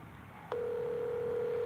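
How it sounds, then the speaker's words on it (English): An outgoing phone call sounds a steady electronic ring tone that starts abruptly after a short silence and holds on without a break. "Phone is ringing"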